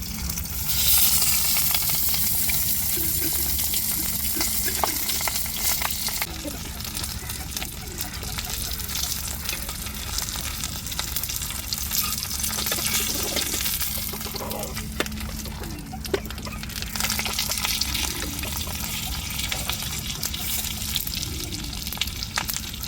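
Rock fish frying in hot oil, a steady broadband sizzle with bubbling crackle running throughout, close and continuous, with a voice talking faintly over it.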